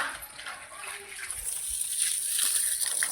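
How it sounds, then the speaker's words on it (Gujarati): A garden hose runs water onto plants in a village kitchen garden that grows cotton, giving a steady close hiss and splash that swells slightly over a few seconds. "પાણી પાવાનું ચાલુ કરી દીધું છે"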